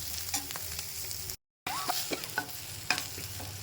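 Onions frying in a pan for a coconut mint chutney, a steady sizzle with occasional stirring scrapes close up, briefly cut to silence midway.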